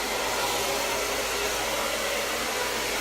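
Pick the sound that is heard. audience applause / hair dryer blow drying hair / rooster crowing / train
hair dryer blow drying hair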